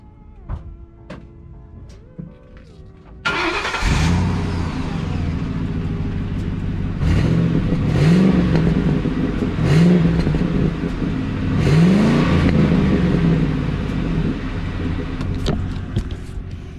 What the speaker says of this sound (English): Let's go ahead and hear some of that Ford power. We're gonna get a cold start on the Fox Resto van.